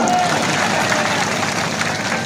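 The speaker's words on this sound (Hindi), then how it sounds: "अरे इस पे तो ताली बजाओ ना" Applause from an audience at an outdoor political rally, a dense steady wash of clapping from many hands with crowd noise, held loud and unbroken throughout.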